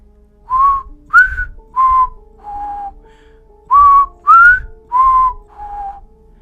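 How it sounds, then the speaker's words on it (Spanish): Eerie whistling from a horror legend: eight clear, loud, tonal whistled notes in two matching phrases of four, each rising or falling slightly, separated by a short pause, with no one speaking. "ahí estaba, el mismo silbido"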